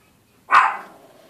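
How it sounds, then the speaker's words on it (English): A small dog lets out a single sharp, close bark that trails off quickly, heard alone against a quiet room. "That's my little dog telling me that the mailman was here."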